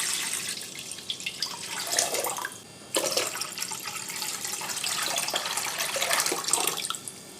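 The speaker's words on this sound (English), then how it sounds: "In a large pot, pour 2 liters of water." Two liters of water pour into a large cooking pot, a steady splashing gush that breaks briefly midway and then resumes, close and fairly quiet, with no talking.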